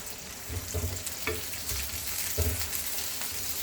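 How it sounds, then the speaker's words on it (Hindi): Okra (bhindi) frying in hot oil in a pan, a steady close sizzle with occasional louder crackles as the pieces are stirred. "बस ऑयल गर्म हो गया, अब हम इसमें भिंडी ऐड करेंगे।"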